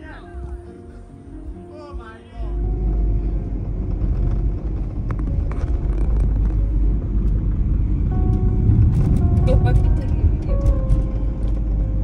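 A car driving at night on a road in the Seychelles, a steady low engine and road rumble that swells in after a quieter start and holds close and loud, with faint voices underneath.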